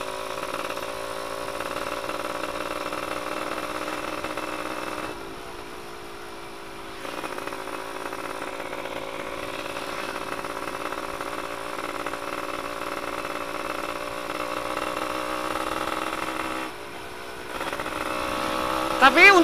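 A Yamaha F1ZR motorcycle engine running with the exhaust silencer removed, a steady raw buzzing idle that holds for about twenty seconds, with two brief dips in revs and a sharp rise at the end, close and loud.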